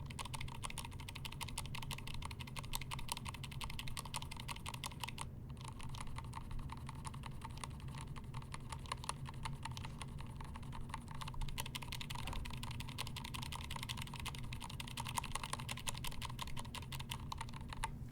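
Rattly NovelKeys Silk and Dry series keyboard switches, unopened stock Dry and once-opened Silk, clack in a steady run of close, dense keystrokes with no talking over them.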